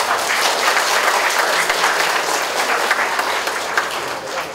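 A church congregation applauds loudly, a thick continuous roar of clapping from many hands that stays strong and even before easing slightly toward the end.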